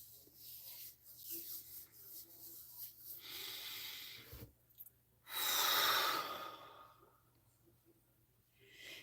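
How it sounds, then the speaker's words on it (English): Slow, audible breaths during a guided deep breathing exercise at a live session, long airy inhales and exhales with a loud forceful exhale near the end, mostly alone with faint voice traces. "Let's do some deep breathing"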